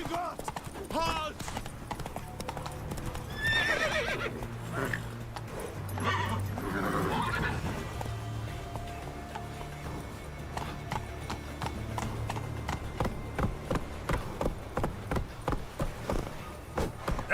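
Roach the horse gallops in Witcher 3, hooves striking in a steady rhythmic clip-clop that quickens toward the end, close and prominent, with a voice talking and game sounds over the first half.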